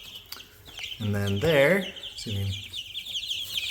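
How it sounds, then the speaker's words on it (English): Baby chicks peep and cluck in a few short bursts while feeding from a DIY automatic chicken feeder, close by, with someone talking briefly over them. "here's the little baby chickens, and there's the auto feeder set up"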